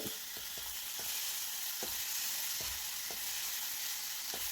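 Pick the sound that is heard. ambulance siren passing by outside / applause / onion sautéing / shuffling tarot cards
onion sautéing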